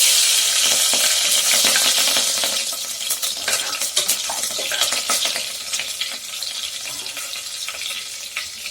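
Garlic and green chillies fry in hot oil for potato biryani, a steady loud sizzle with scraping stirs and spatters, the hiss easing slightly partway through.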